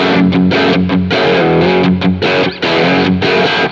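Electric guitar played through a Klon boost pedal on a Neural DSP Quad Cortex: loud, driven chords and notes ring out in quick phrases, with short gaps between strums.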